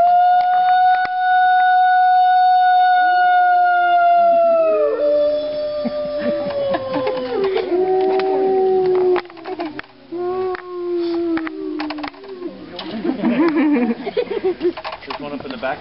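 Wolves at the Lakota Wolf Preserve howl in an outdoor enclosure. A long, clear lead howl is joined by several overlapping voices that slide in pitch, building into a chorus of yips and wavering howls, with a person talking now and then.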